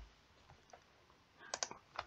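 Quiet keystrokes on a computer keyboard, a few scattered taps followed by a quick cluster of clicks, close and faint with no talking.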